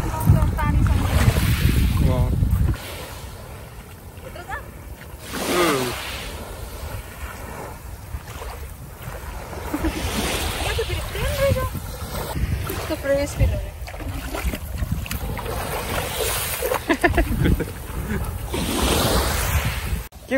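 Seaside waves at a beach park in Kaihin-Makuhari, Chiba, roll and wash with wind buffeting the microphone, surging in loud swells. People talk intermittently over the surf.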